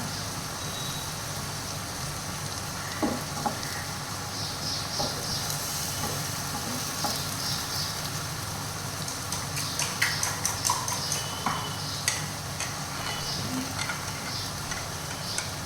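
Green chillies frying in a pan with a little oil for an egg and onion bhurji, giving a steady, close sizzle with scattered crackles and pops that grow busier toward the end.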